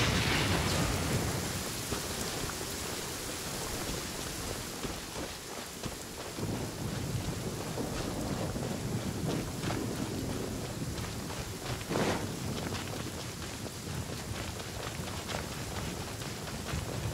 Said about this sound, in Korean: 이봐, 그냥 천둥일 뿐이야. 바다에서는 두려워할 필요 없어.